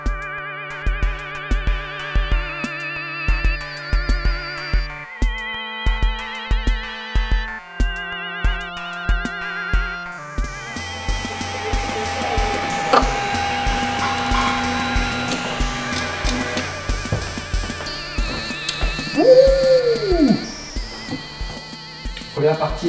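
A dual-colour 3D printer runs a print, its bed held at 60 degrees and nozzle at 210. Steady mechanical whirring and whining motor tones fill the second half, following about ten seconds of tonal music.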